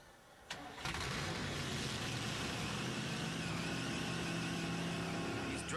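The 670-horsepower Budweiser Thunderbird race car fires up with a sharp catch, then settles into a loud, steady, gritty engine roar that holds close and constant to the end.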